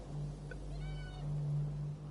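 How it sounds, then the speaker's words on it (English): A cat meows once in a short, faint call over a steady low hum, the tonal cry rising and falling near the middle of the moment. "I hear a cat."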